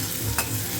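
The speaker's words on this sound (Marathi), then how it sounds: "आता या ठिकाणी छान असं तेलामध्ये व्यवस्थित परतवून घ्यायचं." Cluster beans stir-fried in hot oil, a soft steady sizzle with faint stirring scrapes, close and moderately quiet, no voices.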